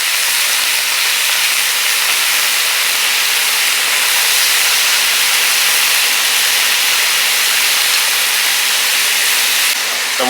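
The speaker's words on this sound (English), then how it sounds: "We want to get a nice sear on them." Oxtails searing in a hot pan give a loud, steady, continuous hissing sizzle that holds evenly throughout with no voices.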